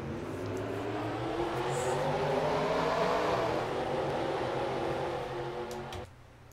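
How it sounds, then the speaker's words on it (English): Race car engines start up and rev together in a stock car racing video game before duel races with large fields of 35 cars, a loud steady engine roar that swells and then cuts off abruptly near the end. "Drivers, start your engines."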